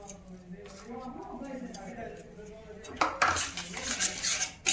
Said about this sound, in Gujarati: હવે આપણે એમાં કાજુ બદામ નાખી દઈએ અને આપણે મિક્સ કરી દઈએ.